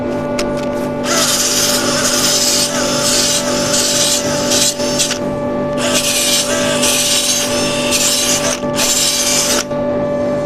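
A lathe spindle spins a live edge oak bowl while the gouge cuts, giving a steady loud hum with bursts of scraping and rubbing as the tool meets the wood, pausing briefly between passes.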